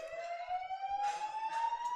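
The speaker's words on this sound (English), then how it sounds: "And the sirens just louder and louder, and then maybe quelled all at once." A siren sounds at a powerlifting competition, a single steady tone slowly rising in pitch, with faint crowd noise and brief swells of hall sound beneath it.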